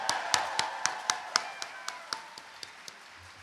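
Clapping from the audience at a university opening convocation: a short run of evenly spaced, sharp hand claps that weaken and fade over a few seconds, with no clear cheering.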